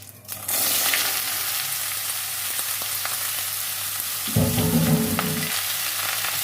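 Sliced pointed gourd is tipped into hot mustard oil with dried red chilli and whole cumin, setting off a sudden loud sizzle that swells, then settles into a steady close frying hiss.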